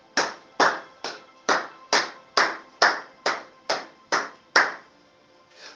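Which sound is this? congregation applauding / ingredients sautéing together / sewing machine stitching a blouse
congregation applauding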